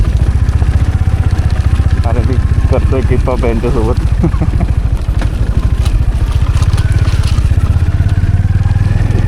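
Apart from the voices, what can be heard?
adventure motorcycles riding past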